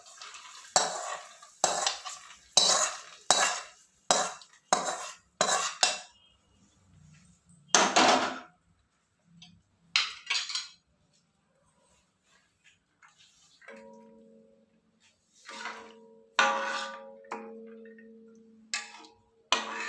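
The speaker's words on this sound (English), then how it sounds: "So all we have left to do is put it into our payasam and stir." Fried cashews and raisins are added to semiya payasam in a pot, with a run of sharp metal spoon clinks and scrapes, then slower stirring taps and a faint kitchen hum, close up with no talk.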